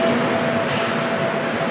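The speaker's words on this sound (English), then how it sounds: "He's on the tram line with like small train tracks." A tram rolls along an Amsterdam tram line on small train tracks, a steady, close rumble of wheels on rail with a brief hissy swell partway through and no talk.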